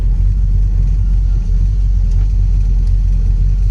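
A 1962 Dodge Polara 500 with a big 440 V8 idling, a heavy, steady low rumble that stays loud and even throughout, close by, with no speech.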